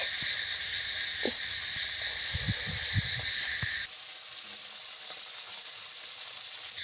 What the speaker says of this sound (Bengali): এই তো এখানে রান্না বসিয়ে দিয়েছি, ভোলা মাছের ঝাল দেওয়া করবো